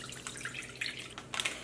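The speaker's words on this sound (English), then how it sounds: "I'm going to pour off all the water" Water poured off into a sink, a soft broadband splashing and dripping with brief louder gushes, moderately quiet and heard alone.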